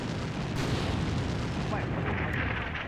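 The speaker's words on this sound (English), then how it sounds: "So we are definitely starting to drop some ordnance." Artillery fire in a military video game rumbles as one sustained, loud, broadband roar of blasts and booms, with a voice faintly underneath.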